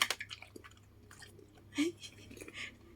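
Dog chewing a baked chicken drumstick, with close, moist crunching bites and soft squishy chews in an irregular rhythm, fairly quiet, while someone talks softly nearby.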